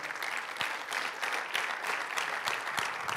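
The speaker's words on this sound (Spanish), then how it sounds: "Dele un aplauso fuerte." A church congregation gives a loud round of applause during a sermon, dense clapping from many hands with a few sharp individual claps standing out, moderately close and without speech.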